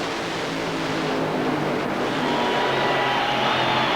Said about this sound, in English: Hoffman driving his way through the quarter mile to victory